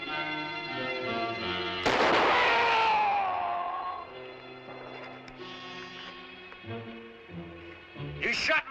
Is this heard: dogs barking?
no